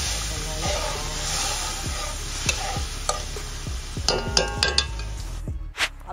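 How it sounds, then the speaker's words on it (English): Curry frying down in a pot for a Trinidadian-style curry iguana with coconut milk, a steady sizzle with repeated spoon scrapes and clinks against the pot throughout, with occasional voices in the background. "Curry to fry down well."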